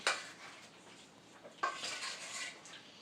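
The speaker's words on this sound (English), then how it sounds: "let's grab our spoon here. Just kind of mix this up a bit" A spoon clatters and scrapes against a dish while food is stirred, with two sharp clinks and soft scraping between them, close and fairly quiet.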